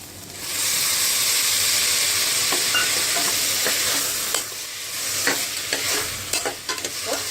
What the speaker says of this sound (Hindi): तो देखिए टमाटर भी अच्छे से भुन चुका है।